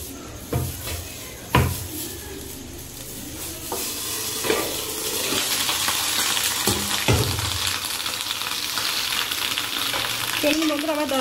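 Small fish wrapped in banana leaf is laid into a hot pan, with a few knocks and clatters first, then a building, continuous sizzle of frying oil, close and fairly loud, without talk.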